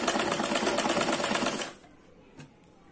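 A sewing machine runs fast and steady for a stitching demonstration, a dense rattling whir that stops abruptly after under two seconds, followed by a single soft click.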